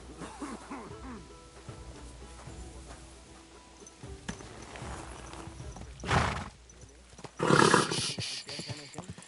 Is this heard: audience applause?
no